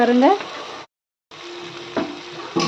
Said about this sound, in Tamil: தக்காளி, இந்த சின்ன வெங்காயம், பூண்டு எல்லாம் சேர்ந்து நல்லா வதங்கி வந்துடுச்சு